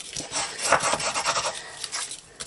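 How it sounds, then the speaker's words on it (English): A folded paper bag with a fold-over rim is burnished by hand, giving a steady dry rasping rub with repeated strokes, close and fairly loud with no talk. "Give everything a bit of a burnish"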